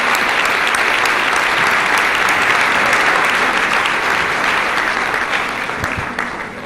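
Loud, dense applause from a large conference audience after a lecture in Mendoza, sustained and even throughout before easing slightly at the very end.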